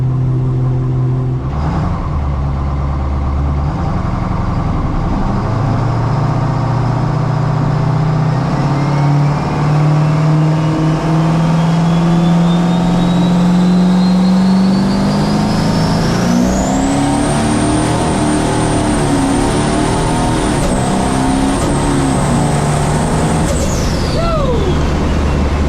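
A Duramax diesel drag truck launches and accelerates down the strip, its engine climbing in a long, loud rising drone with a turbo whine building on top, then easing off near the end.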